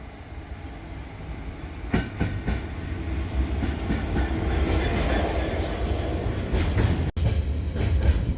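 Class 66 diesel locomotive 66788 hauling a Doncaster-to-Felixstowe container train beneath a footbridge at Trimley, Suffolk: a steady loud rumble of engine and wagons with rhythmic wheel clatter passing close by, filling the whole recording.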